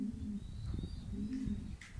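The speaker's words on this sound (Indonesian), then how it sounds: "di sini juga ada burung merpati. Ini merpati jinak atau bukan merpati liar, jadi sengaja diternakan." Domesticated pigeons kept and bred on an Arabian farm, cooing in low, soft, rolling phrases that repeat close by, with faint chirps from other birds higher up and no talk.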